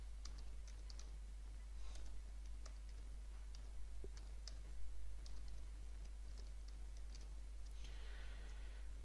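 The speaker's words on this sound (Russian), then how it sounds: "Для этого вводим команду formatfs равно NTFS Quick." Computer keys clatter in quick, light taps as a formatting command for a flash drive is typed. The typing is close and fairly quiet over a steady low hum, in uneven bursts with a brief flurry near the end.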